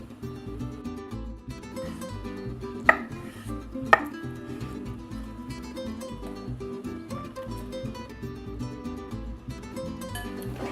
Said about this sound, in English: grab a small onion and mince it. And we're going to pit and chop 1 avocado